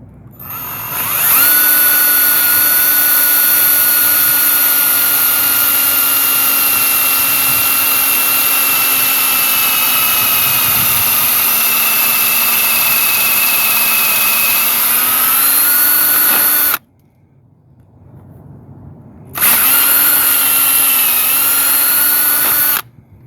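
A cordless drill bores a tap hole upward into a backyard maple tree, a loud close whine running steadily for about fifteen seconds with a slight pitch dip near the end, a brief pause, then a second shorter burst.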